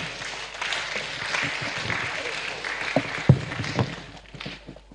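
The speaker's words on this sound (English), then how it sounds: "They deserve a round of applause, don't they?" Audience applause at a media conference, a steady wash of clapping from a crowd that runs the whole stretch, with a few sharper claps near the end.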